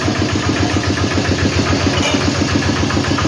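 Walk-behind tractor with its engine running while hauling a wooden plough, a loud continuous chugging putter with a steady rhythmic knock, close and without pauses.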